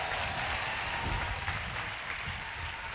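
Church congregation at an evening service applauding in praise, a soft, distant continuous wash of clapping and crowd noise with a low rumble beneath.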